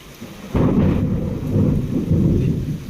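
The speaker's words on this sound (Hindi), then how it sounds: "सुबह से थोड़ा सा भी बारिश बंद नहीं हुआ है, और बिजली बहुत चमक रहा है।" Heavy monsoon rain pours outside a home while a deep thunder rumble rolls in and sustains loudly over the steady downpour.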